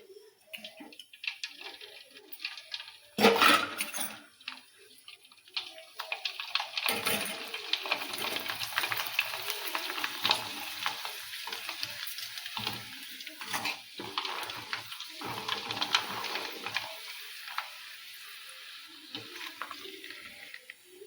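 Rice papad (appalam) dropped into hot oil fries with a loud, crackling sizzle that starts suddenly and keeps bubbling steadily and close for a long stretch, with a few scattered clinks and no talk.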